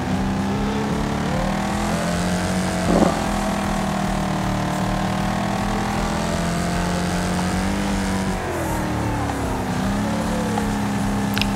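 Car engine droning steadily at close range while driving in the Wreckfest racing game, with pitch rising and falling through gear changes and throttle shifts, loud and continuous with no talk over it.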